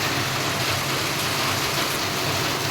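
Heavy monsoon rain pouring down in early July, a dense, steady roaring hiss that stays loud and even throughout, with no voices.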